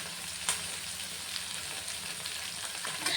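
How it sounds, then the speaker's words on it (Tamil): Okra (ladies finger) sautés in plenty of oil for a curry, salted as it cooks, making a soft, steady sizzle with a few faint crackles and pops and no voices. "வெண்டைக்காயை நல்லா எண்ணெயில் நல்லா வதக்கி எடுத்துடலாங்க."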